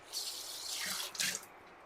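A bowl rinsed under a running kitchen tap, water splashing and hissing in two short bursts, the second brighter as the stream hits the bowl, close and moderately loud with no voices.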